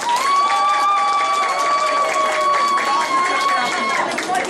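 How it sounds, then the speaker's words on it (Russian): A crowd at a regional Cossack culture festival applauds: sustained, roughly rhythmic clapping and cheering over a steady tonal musical drone, with voices mixed in. "Итак, аплодисменты."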